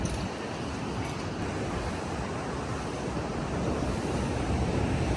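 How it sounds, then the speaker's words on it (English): Warm ocean surf rolls onto a black sand beach in El Salvador, a continuous broadband wash that swells slightly louder toward the end, mixed with some wind buffeting and no voices. "And the sound of the waves is blissful."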